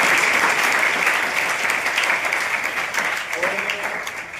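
An indoor audience at a motivational speech gathering claps loudly and continuously in welcome of a guest, the applause gradually thinning toward the end.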